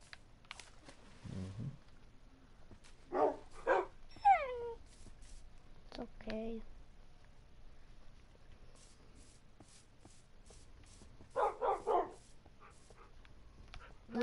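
Dogs in a Minecraft game give short barks and whimpers in a few separate bursts, with a cat-like meow mixed in, over quiet game background.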